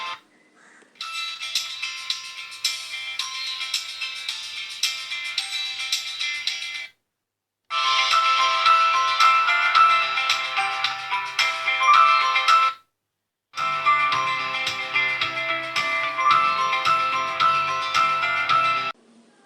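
Steady electronic test tones play through a 3-way speaker system's woofer, mid-range and tweeter via a crossover network, in three sustained bursts separated by short silent gaps.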